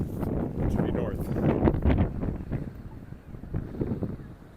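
Cold wind gusts from the right on a downtown Regina street in December after an ice storm, a steady low buffeting roar across the microphone that swells and eases through the whole stretch.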